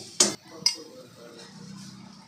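Lentils being stirred into a vegetable dish in a pan, with two sharp metallic clinks of a spoon against the cookware followed by soft scraping and shuffling, quiet and close.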